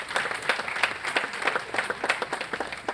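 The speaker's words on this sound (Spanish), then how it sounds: "Aplaudan, aplaudan." Audience applause at a social economy and employment forum, a mix of separate hand claps and broadband crowd noise running steadily for the full length at moderate level, with no talking.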